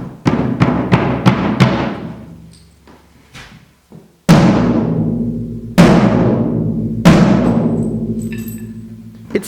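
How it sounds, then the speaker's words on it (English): A tom drum on a drum kit, its head retuned after two rounds of tightening, is struck in a quick run of hits followed by single booming strikes, each close and loud with a ringing decay. "That's what the drum sounds like now."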